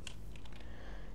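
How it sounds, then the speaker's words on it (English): A computer keyboard is struck in a rapid, faint flurry of clicky keypresses, a short burst of quick taps heard alone and up close. "It was just me just smashing my keyboard."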